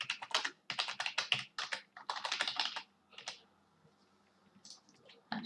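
Fingers typing on a computer keyboard, close and fairly quiet, in quick clustered bursts of key clicks that pause briefly and resume with a few scattered taps.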